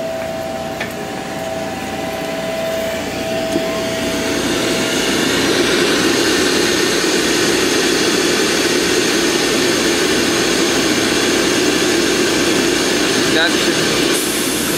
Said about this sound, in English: Combustion blower.